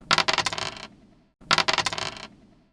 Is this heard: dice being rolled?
yes